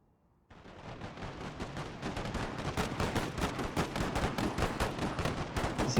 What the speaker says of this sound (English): This is the Gatling gun, as you can see.